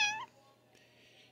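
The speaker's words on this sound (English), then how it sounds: "You meow so cute." A pet cat gives a short, high meow right at the start, then only a faint background hum remains.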